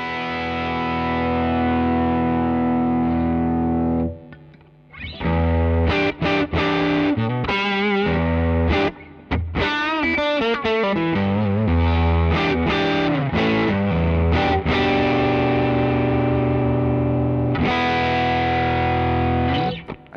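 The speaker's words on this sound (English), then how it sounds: "Let's add a bit of distortion on the bridge and then the neck for comparison." Electric guitar played through a distortion effect from a multi-effects pedal, on a Stratocaster's bridge and then neck pickup: loud, sustained overdriven chords and riffs with bright harmonics, brief pauses between phrases, no voices.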